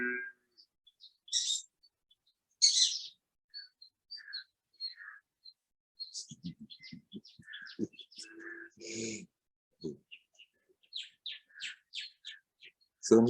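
Birds sing outdoors in short, scattered chirps and tweets, some near and some farther off, with quiet gaps between calls and occasional low coos.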